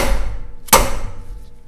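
A single sharp knock as a dead blow hammer strikes a breaker bar set on a fan clutch, loosening it, heard up close against a steady background rumble.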